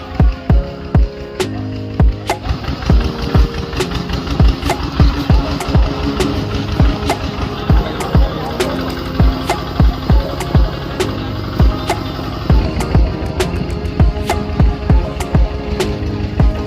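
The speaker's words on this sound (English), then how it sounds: "The power tillers could only take us to a certain distance from the village." Power tiller engine chugging along a muddy, bumpy mountain trail in Cambodia, a loud close rhythmic throbbing with rapid repeated knocks that continues steadily throughout.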